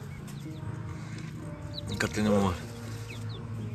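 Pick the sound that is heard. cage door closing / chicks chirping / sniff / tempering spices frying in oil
chicks chirping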